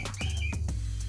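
A pet bird chirps near and clear in a few short, bright calls, the first and a longer whistled note followed by quick tweets, with no talking over it.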